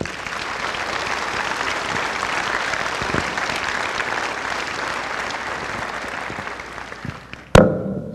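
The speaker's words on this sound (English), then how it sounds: "give yourselves an applause" Navy JROTC cadets and audience clapping after a high school inspection ceremony, a steady spread of applause that fades toward the end before a sharp thump.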